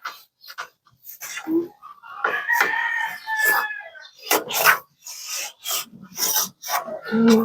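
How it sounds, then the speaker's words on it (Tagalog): Someone scrubs a window with quick rasping strokes in short bursts and pauses, close by, with a rooster crowing somewhere in the background. "After natin kuskusin ng ganyan, lilinisin natin siya."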